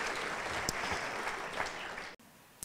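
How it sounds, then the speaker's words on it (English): An audience at an evening lecture event gives a round of applause, a sustained dense patter of clapping that holds steady before cutting off abruptly near the end. "Would you please give them all a round of applause"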